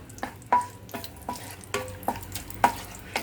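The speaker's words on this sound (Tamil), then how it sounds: "முந்திரி வறுக்கும்போது மட்டும் கொஞ்சம் அடுப்பில் சிம்மில் வச்சு வறுத்துக்குங்க" Split cashews roast in ghee for sweet pongal, a soft bubbling fry beneath several sharp taps and scrapes of a spoon against the pan, close and without speech.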